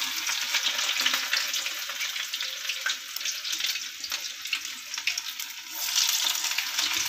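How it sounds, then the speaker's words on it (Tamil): Medu vada, ground urad dal fritters, fry in hot oil with a dense, constant bubbling sizzle that swells slightly toward the end, close and steady, with no talk. "நல்லா வெந்து மேலே வரும் வடை"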